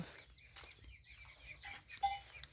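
Chickens carried on a shoulder pole by a rural Thai farmhouse in the morning give brief, faint clucks and a sharper squawk near the end over a quiet, low background hum.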